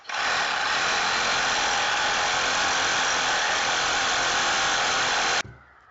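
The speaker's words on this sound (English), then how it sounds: "Made one slit with the Sawzall right there. I'm going to cut this crown off." A Sawzall reciprocating saw cuts the crown off a 216 lb generator being stripped for copper. It makes one loud, steady cutting roar up close for about five seconds, then stops abruptly.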